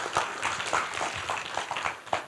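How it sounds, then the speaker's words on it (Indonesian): An audience at a seminar on Facebook ad analysis breaks into scattered, uneven clapping that carries on for a couple of seconds, moderately loud and roomy. "Tepuk tangan dong."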